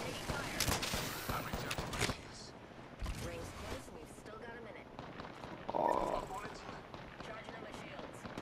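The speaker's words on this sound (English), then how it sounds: "Shots fired at me" Rapid gunfire bursts in the shooter game Apex Legends, loud and clustered early, then sparser shots and impacts over a busy game soundscape with voice callouts.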